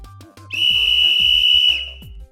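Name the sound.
whistle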